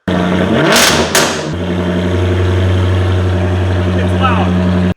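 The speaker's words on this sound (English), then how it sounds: "It's pretty loud with the exhaust off?" Jaguar F-Type R engine with its exhaust removed, revving hard in two sharp bursts early on, then settling into a loud, steady, close-up idle rumble that continues while people talk over it.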